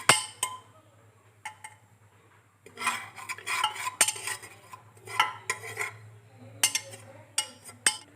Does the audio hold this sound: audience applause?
no